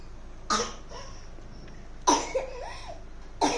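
Three separate coughing bursts sound close by with quiet pauses between them, one followed by a short vocal sound.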